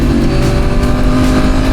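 A 2025 Honda CBR 1000RR-R Fireblade SP sportbike engine revs loudly and continuously at high pitch, a dense steady roar with no voices over it.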